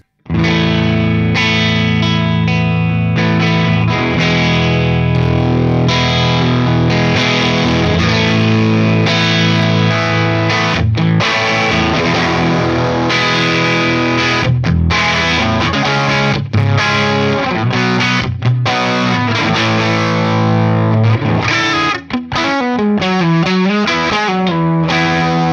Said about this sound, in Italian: ci permette di boostare il nostro amplificatore e ottenere un'altra tipologia di sonorità